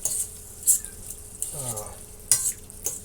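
Hamburger meat is stirred into a pan of spaghetti sauce with diced tomatoes, giving a few short scrapes and knocks over a soft bubbling sizzle. A brief voice is heard partway through.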